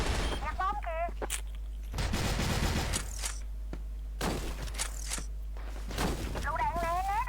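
Gunfire in the online shooter CrossFire, with bursts of shots and sharp impacts recurring through the round over constant game background noise, while a player talks throughout.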